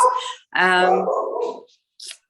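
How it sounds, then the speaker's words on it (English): A dog gives two or three close, loud yelps or barks, the middle one a drawn-out, whining vocal cry, with brief gaps between them. "Sorry, Neil, that's my dog joining in on the act."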